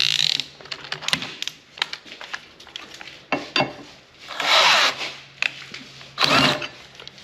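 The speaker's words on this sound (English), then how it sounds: "let's see if the 1/2 inch bit's sharp enough to get through this." A 1/2 inch drill bit, hand-sharpened on a belt sander, bores through a steel truck frame rail, giving bursts of loud grinding, scraping and squealing metal with short pauses between pushes and a steady low motor hum underneath.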